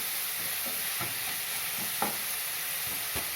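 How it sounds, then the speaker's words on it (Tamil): Small onions sautéing in a pan for a spicy quail pepper fry, with a steady soft sizzle and a few light scrapes of a stirring spoon at intervals, no talk. "இன்னும் நல்லா வதங்கணும். வெங்காயம் வதங்கினது போதும்."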